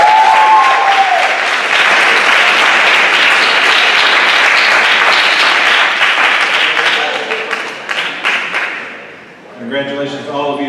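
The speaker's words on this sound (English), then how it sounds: "Give them a round of applause, please." A loud, dense round of applause from an audience at a high school academic awards ceremony, sustained for about eight seconds before fading, then a brief tonal chime or music sting closes it.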